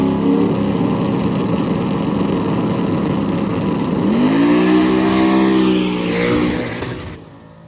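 A drag racing car at Carolina Dragway roars loudly at full throttle, its engine note climbing through rising revs before fading away near the end.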